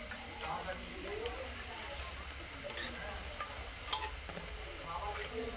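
Potatoes frying slowly in a pan on low gas, a steady soft sizzle with faint stirring scrapes and a few brief clinks, constant and close throughout.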